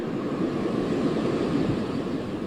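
Steady rushing wash of ocean surf at Ocean View Beach, a continuous broadband roar mixed with wind, loud and unbroken throughout.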